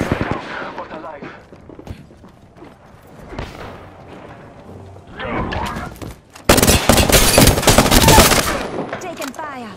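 Gunfire in Apex Legends, scattered shots and short bursts amid game sounds and talk, building to a loud sustained automatic volley near the end.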